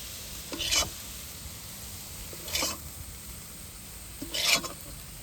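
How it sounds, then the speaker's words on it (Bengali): Grated coconut being stirred while it dry-roasts in a pan: three distinct scraping strokes spaced a couple of seconds apart over a faint, steady hiss, no talking. "দেখুন নারকেলটা একদম শুকনো শুকনো করে নিয়েছি নাড়াচাড়া করে"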